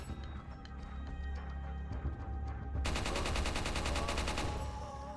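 Video game gunfire aimed at zombies: a low, steady rumble gives way abruptly to a dense, rapid burst of automatic shots lasting about a second and a half, then fades back.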